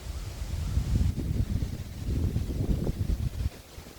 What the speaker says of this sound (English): The wind is swirling.